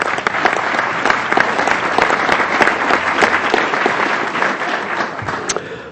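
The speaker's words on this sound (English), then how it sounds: "Round of applause for Ms." Applause fills a congressional committee hearing room, with dense, steady clapping from a roomful of people that stays loud for the whole stretch and fades slightly at the end.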